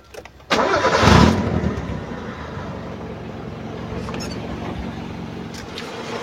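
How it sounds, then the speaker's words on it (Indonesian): A 1995 Mazda Vantrend station wagon engine turns over and settles into a steady, smooth idle, a close, even rumble that continues without change. "Sekarang kita tinggal cek suara mesinnya, kita dengerin suaranya"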